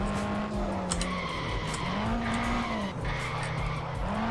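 Tires squeal steadily as a car brakes and skids hard in the Overspeed racing game, a loud continuous screech with wavering pitch over engine roar, no talking.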